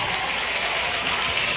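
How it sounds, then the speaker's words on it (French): Wedding guests applaud the bride's entrance, a brief burst of continuous clapping from a crowd without talk over it. "S'il vous plaît, continuez à l'applaudir, c'est son jour."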